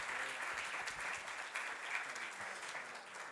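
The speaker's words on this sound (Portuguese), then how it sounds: "Uma salva de palmas para todo mundo da vice-prefeitura aí." Steady applause from an audience at a live event, a dense wash of clapping that holds evenly for a few seconds, with no voices over it.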